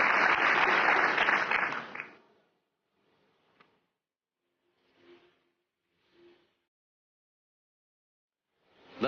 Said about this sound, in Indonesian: Kita kasih tepuk tangan dong, Reza Rahadian.